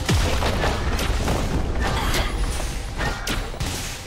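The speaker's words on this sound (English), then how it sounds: "Red team's turret is down." A turret destroyed in League of Legends, heard as a loud sustained crumbling boom with mechanical clatter and scattered impacts across four seconds, in the thick of busy game effects and no talk.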